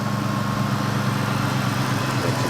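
A 2003 Cobra's engine runs close by, a steady low rumble with even harmonic drone and no clear revs, alone without talk.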